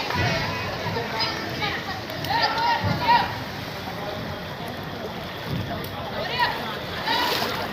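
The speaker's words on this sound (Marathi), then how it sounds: "अरे पाणी वाढायला लागलं" Floodwater from the Khadakwasla dam overflow sloshes and churns through Ekta Nagar in Pune, a steady rushing wash with a few louder splashes, heard under people talking nearby.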